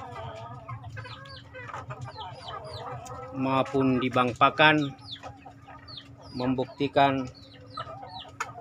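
Free-ranging backyard chickens clucking as they forage beneath their coop, with a few louder bursts of fowl calls over a steady hum while someone talks.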